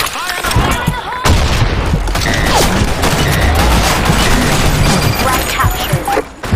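Gunfire and grenade blasts from a Sand Storm map in a capture-the-flag shooter video game, with dense rapid bursts and booming explosions running continuously and loudly, and game voice callouts mixed in.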